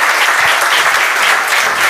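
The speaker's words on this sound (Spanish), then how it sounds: "Le damos un fortísimo aplauso" Loud, dense applause from an audience at a talk-show event, sustained and close without a break for its full length.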